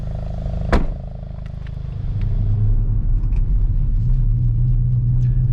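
A 2022 Hyundai i20 N pulls away after a brief click, its engine rumble rising steadily and holding a loud, close drone with road noise underneath, no talking.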